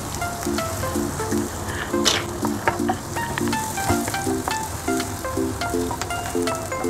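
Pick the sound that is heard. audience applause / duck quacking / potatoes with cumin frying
potatoes with cumin frying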